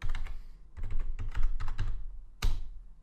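Keys on a computer keyboard clatter in short bursts as a password is typed, a quick run of close, light clicks with brief pauses and a final firmer tap, no voices.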